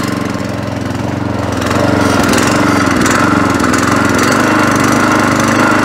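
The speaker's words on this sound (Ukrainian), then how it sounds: "Закрили заслонку, завели і прибрали заслонку." Loncin LC-1200 walk-behind tractor engine running just after starting, a loud, steady chugging single-cylinder idle with rapid regular pulses that swell slightly in level after a couple of seconds and hold, alone without talk.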